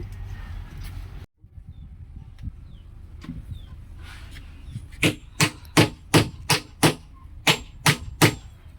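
A hammer strikes a corner guard sharply about ten times in a steady rhythm, close and loud, after a stretch of quiet background with faint birdsong and chickens nearby.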